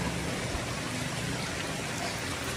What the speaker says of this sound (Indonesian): Sementara masih hujan, insyaallah besok terang, guys.